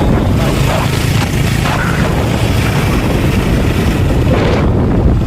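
Wind noise from riding a motorbike toward a highway, a loud continuous rough buffeting roar across the mic with no pauses.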